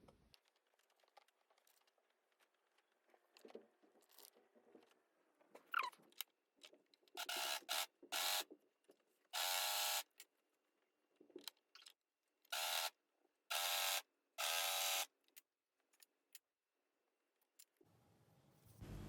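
Sewing machine stitching the two edges of a fabric hat, heard as several short, loud mechanical whirring bursts separated by pauses, with fabric rustling and handling clicks between runs.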